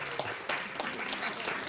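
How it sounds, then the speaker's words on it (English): Brief, moderately quiet clapping from an audience at a live dating game show event, a scattered patter of hands lasting under two seconds. "Round of applause."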